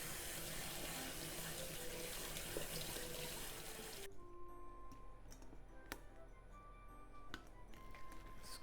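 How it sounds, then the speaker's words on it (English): Tap water pours into a kitchen sink over drained glass noodles as they are rinsed for a cucumber and tuna salad. The flow is a steady close rush that becomes lighter and more splashy partway through, with soft clicks and ticks. "let's drain and rinse under running water to cool down"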